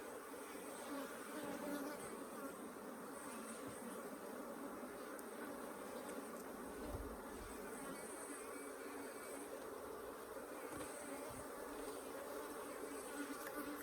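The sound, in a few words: Africanized hybrid honey bees at an open hive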